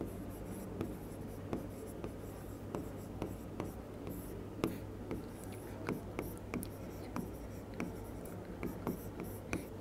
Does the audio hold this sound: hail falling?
no